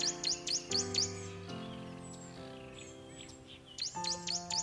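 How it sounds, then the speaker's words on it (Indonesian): Birds chirp in quick bright bursts around the Gua Maria Sendang Jati cave shrine near Purwodadi, with calls clustered at the start and end over a steady sustained tonal drone in between. "Suara kicau burung, menemani para peziarah"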